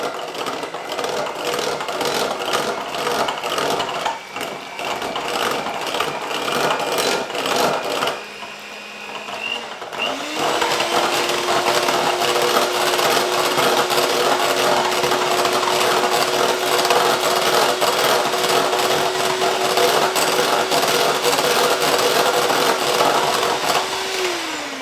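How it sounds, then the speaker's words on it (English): Electric hand whisk whipping plant-based cream for a vegan gingernut chocolate cake, a steady loud motor whir that pauses briefly, then resumes at a higher steady pitch and runs on continuously. "the plant-based cream takes a bit longer to whisk"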